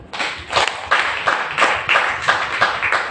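A church congregation claps in praise, loud rhythmic group clapping in a regular beat of about two to three claps per second.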